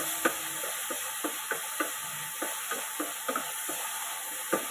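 Chopped tomatoes sautéed with curry leaves and chillies in a pan, with a steady frying hiss under a run of regular spatula scrapes and taps, close by and without speech.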